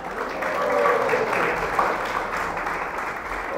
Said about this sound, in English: Please, a round of applause for Ganesha Kishori Devi.